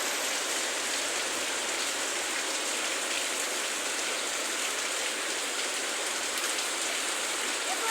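Heavy typhoon rain from Typhoon Carina pours down steadily and loudly in a dense, unbroken hiss close by, with no voices over it.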